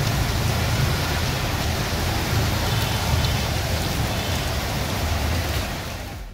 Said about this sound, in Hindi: इतनी ज़्यादा बारिश है